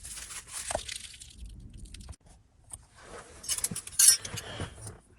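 Car radio mounting brackets for a Ford Explorer police interceptor are unwrapped by hand, giving bursts of crinkling plastic and light metallic clinks, close, with a quiet pause in the middle.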